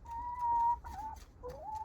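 Adopted ex-laying hens in a henhouse make soft, tonal clucks and warbling calls, a few separate quiet vocalizations with pauses between.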